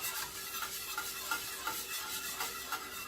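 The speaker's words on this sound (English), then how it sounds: "Okay, stir all that together." A spoon stirs a vegan broccoli cheese soup sauce in a pot, giving soft rhythmic scraping strokes over a faint sizzle, quiet and close with no talking.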